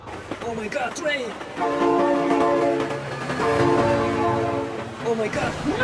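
A train in the BeamNG driving game passes with a loud sustained multi-tone horn sounding twice in long blasts over rumbling rail noise, with brief excited voice sounds around it.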